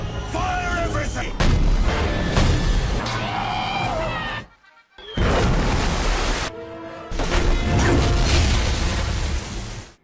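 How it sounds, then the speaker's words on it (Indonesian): Loud booming cannon blasts from a tank in the film The A-Team ring out amid a dense, chaotic battle mix, with a brief drop to near silence midway before the barrage resumes. "menembakkan meriam agar tank mereka bisa terbang dan bisa menyelamatkan diri"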